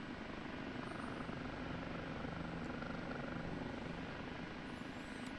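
OH-58D Kiowa Warrior helicopter engine throttling up in the DCS flight simulator: a dense, steady rotor and turbine roar that fills the whole stretch at an even level, with a faint high whine above it.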